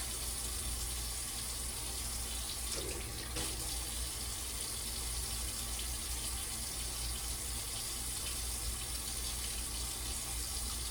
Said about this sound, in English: keep kneading it and rinsing it until I think I've gotten all of the buttermilk out of the butter